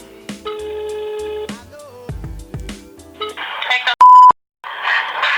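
A phone call being placed, with a short electronic beep and a ringing tone that sounds out alone and fairly loud, among other tonal beeps and a brief burst of noise.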